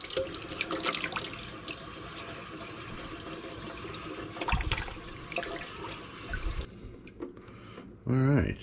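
Running water from a tap flows through a natural sausage casing knotted at one end as it is rinsed for making liver sausage, a steady close splashing stream that thins near the end, with a brief burst of louder clatter at the finish.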